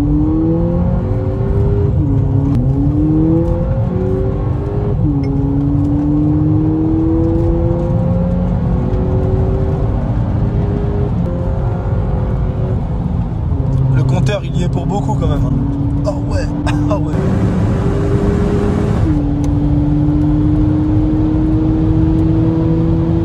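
A 2019 Volkswagen Polo 6 GTI with a 200 hp 2.0 TSI petrol engine, driven hard from inside the cabin, with a loud engine drone rising through the revs and dropping at each gear change. Someone talks over it the whole time.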